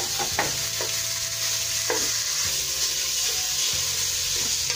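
Fatty ground pork sautés in a little oil, a constant close sizzle with several spoon scrapes and a low steady hum beneath.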